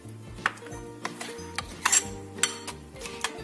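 Sweet potato batter mixed with water being stirred in a bowl, a close utensil scraping and clinking against the bowl in irregular strokes with sharp ticks, no voices.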